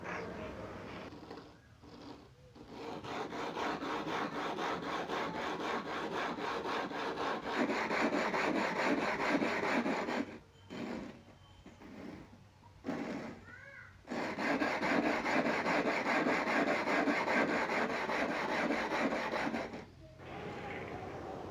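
Rough grinding of a thin 8 mm glass telescope mirror blank with abrasive grit, a continuous gritty scraping and rasping that runs steadily with a few brief pauses, close and fairly loud.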